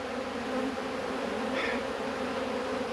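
Steady, dense buzzing of many bees at an open feeder, a continuous drone close by with no other sounds.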